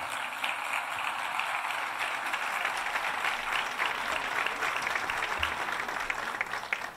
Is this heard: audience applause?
yes